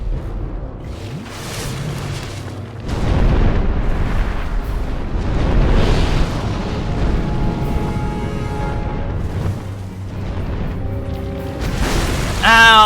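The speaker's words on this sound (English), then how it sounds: "I didn't think he would land with such force, such impact" A heavy creature slams down to the ground in Dark Souls II, a deep booming impact with a rumbling tail that swells and lingers amid dense game noise, loud and close.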